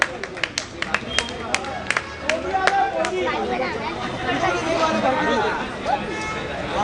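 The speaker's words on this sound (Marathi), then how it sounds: "प्रदीप मामा शेरा, जोरदार टाळ्या वाजवायच्या त्यांच्यासाठी." At a friends' club match, a crowd honours the chief guest with a burst of sharp, rhythmic claps at the start, which soon fades into lively chatter and voices from the gathering.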